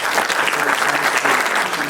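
An audience claps in a sustained, dense round of applause, loud and steady throughout without pause.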